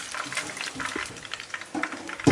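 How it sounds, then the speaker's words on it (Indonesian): Fried chicken pieces crackle and sizzle in hot oil, a steady bubbling hiss with sharper pops, with soft clatter from turning the pieces. "tinggal kita cemplung ke dalam minyak panas, bolak-balik sebentar"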